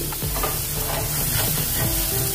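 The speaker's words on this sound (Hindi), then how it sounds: "अच्छे से इसको भी थोड़ा देर भुनेंगे, 1 मिनट इसको भुनना है।" Potato and brinjal sabzi is stirred and fried in a pan, with close spoon scrapes over a continuous sizzle in repeated short strokes.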